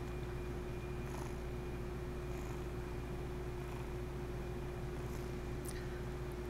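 A pet cat purrs softly and continuously in a quiet room, faint above a steady low hum.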